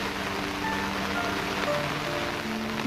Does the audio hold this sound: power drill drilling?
no